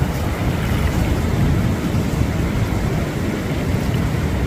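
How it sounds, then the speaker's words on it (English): Big, rough ocean waves breaking on a beach produce a continuous loud roar of surf and wash, with steady wind buffeting the microphone and no pauses. "Look at how big these waves are."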